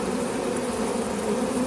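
A steady, continuous hum of bees fills the air around a failing hive colony infested with hive beetle larvae. The droning buzz stays even and unbroken throughout, with no voices.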